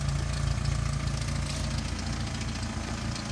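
A 1994 Jeep Wrangler S idles with an exhaust leak, a loud, steady rumbling engine note with a rough low pulsing throb, close by and continuous with no talk.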